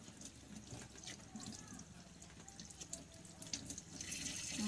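Green chili peppers are rinsed under a running kitchen tap, giving a faint, steady stream of splashing water that swells slightly toward the end.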